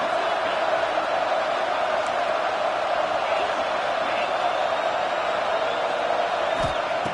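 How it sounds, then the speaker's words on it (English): A home crowd at a football game in Oregon roars in a steady, dense wash of cheering that fills the whole stretch, with an announcer talking over it. "this home crowd is fired up and ready to make a difference today"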